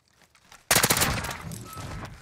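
Burst of automatic rifle fire from an M13 in Modern Warfare Search and Destroy, starting abruptly after near silence and continuing as loud, rapid, dense shots that fade slightly toward the end.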